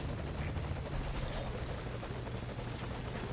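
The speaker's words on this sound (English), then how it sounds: "I called the helicopter ahead of time, so it's already right here" A video game helicopter in Metal Gear Solid V: Ground Zeroes arriving and hovering close by, a loud continuous rotor thrum with rapid blade chop, alone with no voices.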